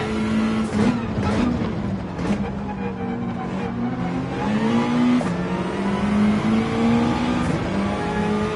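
Race car engine in a racing video game at Laguna Seca, revving continuously and shifting pitch as the throttle rises and falls, loud and close throughout.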